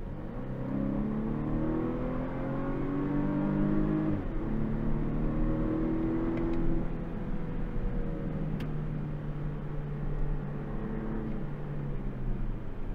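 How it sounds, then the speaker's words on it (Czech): A Volvo V90 Cross Country B5 revs hard under full throttle uphill in sport mode, engine note climbing steadily through the gears with a brief dip at a shift, loud and continuous from inside the cabin. "Můžu vám ukázat takové bonusové zrychlení na plný plyn na sportovní režim do kopce"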